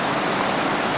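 River flowing beside a campsite near Whistler, a dense, even rush of water that holds steady and fairly loud from start to finish with no other sounds.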